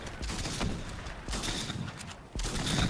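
Gunfire in the video game Fortnite: several quick bursts of shots crackling at close range, separated by short gaps, with a louder burst near the end.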